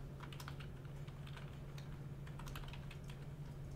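Computer keyboard shortcuts pressed during a music audio workshop, a soft run of irregular clicks and taps, faint and close over a constant low electrical hum.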